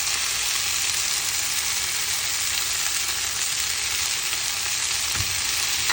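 Chili powder frying in hot oil in a pan gives a loud, steady, close sizzle that hisses on without a break for the whole stretch, with a faint stirring scrape near the end and no voices.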